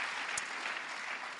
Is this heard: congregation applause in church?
yes